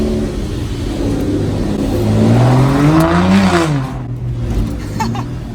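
Aston Martin DB9 Mansory engine accelerating hard, its rising harmonic sweep climbing then dropping as the car pulls away, loud and fairly close with steady wind and road noise.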